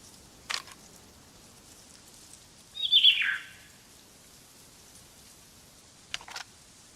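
A bird in the survival game DayZ gives a single short, bright, descending call midway, with faint clicks just before and after and otherwise quiet ambience; no one talks.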